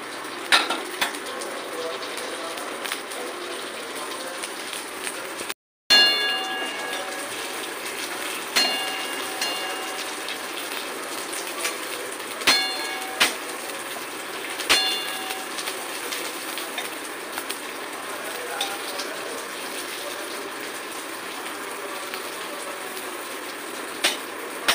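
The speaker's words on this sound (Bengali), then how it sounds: "এবার আমি ভেজে নিচ্ছি।" Raw mango papad seasoned with chilli flakes and ground black pepper fries in hot oil, giving a long steady hiss dotted with sharp crackles and pops, broken once by a brief pause.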